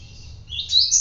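A canary gives a brief, high, bright chirp that rises and grows louder toward the end, heard alone over a faint low background hum.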